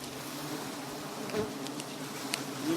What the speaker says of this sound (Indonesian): Nah, ini lebah-lebahnya ini.